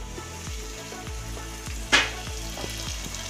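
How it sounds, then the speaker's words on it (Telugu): Tomato puree goes into onion masala frying in a pan, a steady close sizzle with one brief louder splash and hiss midway, then rhythmic stirring scrapes. "ఉల్లిపాయ మసాలా వేగింది కదా, ఇప్పుడు టమాటా సూప్ వేద్దాం."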